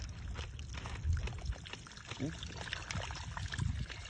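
Water pours and drains away through holes in the bottom of a container, a close, uneven gushing and trickling with faint voices in the background.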